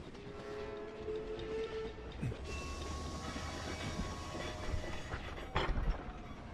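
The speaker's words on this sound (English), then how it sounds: "I don't have a great experience with trains in this game." A train rolls past in the horror video game Poppy Playtime, a low rumbling clatter with metallic squeals and tonal whines, ending in a louder clanking burst, heard alone at moderate distance.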